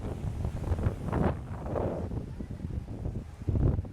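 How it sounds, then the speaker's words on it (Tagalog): Strong wind at a hillside campsite view deck buffets the microphone in heavy, rumbling gusts, with faint voices underneath. "Sobrang lakas ng hangin, oh"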